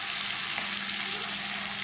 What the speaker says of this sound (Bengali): ভেজে নেব মাথাগুলো